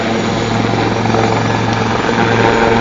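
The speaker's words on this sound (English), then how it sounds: "The next manoeuvre shows another helicopter speciality, flying backwards." Westland Lynx helicopters of the Black Cats team flying a display at the Duxford Air Show, a steady loud rotor and engine drone with even chopping throughout, no voices.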